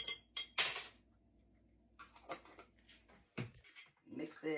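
Sauce ingredients, including rice vinegar and red chili paste, are stirred in a bowl with a utensil in a home kitchen, giving quiet, irregular clinks and scrapes in short separate bursts, with near silence between them.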